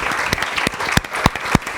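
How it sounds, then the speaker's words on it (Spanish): An audience at a panel discussion on psychological support breaks into steady applause, a dense, close wash of many hands clapping with a few sharper individual claps standing out, and no talk over it. "me parece muy relevante dar un aplauso a Beatriz y a las familias."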